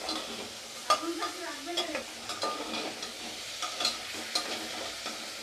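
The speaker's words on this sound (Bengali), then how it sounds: "মাংসটাকে সবজির সঙ্গে একটুখানি নেড়ে চেড়ে ভেজে নেব" Chicken pieces with vegetables being stirred and fried in a pan, a soft sizzle under repeated scraping and clinking strokes of a spatula, fairly quiet and close.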